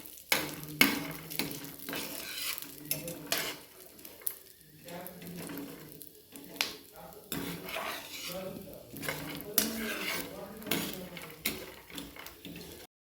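Repeated scraping and stirring of peanuts roasting in a pan, dry rattling of the nuts in an irregular rhythm of strokes over a faint sizzle.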